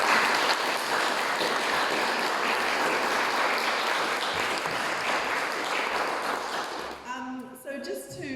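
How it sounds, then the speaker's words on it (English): A live audience applauds at the close of a history presentation on Macraes, with steady, dense clapping for about seven seconds before it thins out and a voice begins speaking. "So everyone would just like to give a round of applause."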